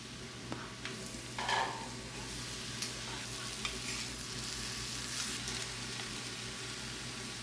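Soya chunks fry in a hot pan with a continuous, crackling sizzle, broken by occasional scrapes and knocks of stirring.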